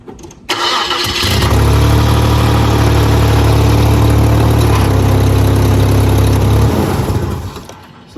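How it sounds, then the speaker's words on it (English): Truck engine cranking briefly and firing up, then settling into a loud, steady close-up idle with a deep rumble for several seconds before the recording fades. "So the truck starts no problem"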